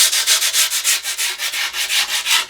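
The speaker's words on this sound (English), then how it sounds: "Make myself a little polishing block and then kind of rub that edge." A folded polishing block rubs back and forth along the edge of skateboard grip tape, giving a steady run of about fourteen rhythmic, raspy sanding strokes, close and fairly loud, with no talking.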